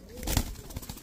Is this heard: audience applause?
no